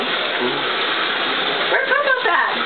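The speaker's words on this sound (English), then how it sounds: "So excited when he hears a water run like that" Bath water running from a tap into a tub, a steady gushing rush with splashing bubbles toward the end, heard alone at moderate level.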